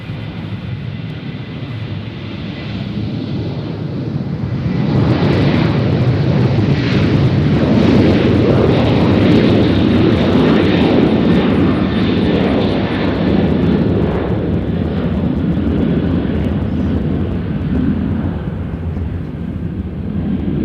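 A fixed-wing aircraft lands at Nashville International Airport, its engine roar swelling loud and steady after a quieter opening and holding strong with wind rush before easing slightly near the end.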